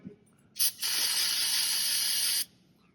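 Automatic transmission fluid drains from a 2012 Honda Odyssey, a steady close hissing rush that starts abruptly after a short burst and runs about two seconds before stopping.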